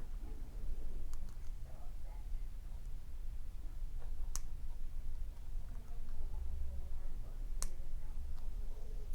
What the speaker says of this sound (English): I like that little clicking sound when I'm closing a jump ring